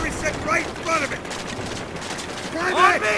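Bursts of machine gun fire from bunkers crackle at mid distance in the war game Call of Duty: World at War, short ragged volleys with a whining shot near the end.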